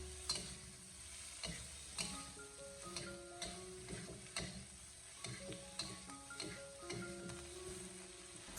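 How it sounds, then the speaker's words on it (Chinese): Green peppers tossed with chopped aromatics in a wok: a steady sizzle broken by repeated scraping strokes of a spatula in a fairly regular rhythm, with a soft tonal background underneath. "然后再继续的给它不停翻炒一小会， 把小料全部煸炒出香味"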